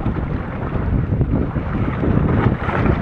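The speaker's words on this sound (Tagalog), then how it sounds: "Lakas na ng hangin pero okay lang." Strong sea wind buffets a small fishing boat on open water, a loud continuous roar of gusting wind against the microphone over the rumble of waves, with no voices.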